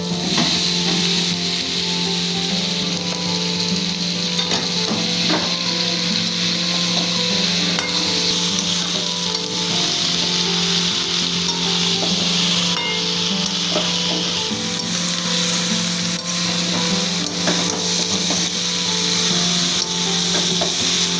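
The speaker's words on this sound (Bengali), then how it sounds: "এবার আমি কেটে রাখা এঁচড়গুলো, যেগুলো সেদ্ধ করে রেখেছিলাম, এঁচড়গুলো দিয়ে দেবো।" Boiled, cut green jackfruit frying and being stirred in oil-separated spice paste for a Bengali jackfruit curry, a steady close sizzle with scraping stirs throughout and no talk.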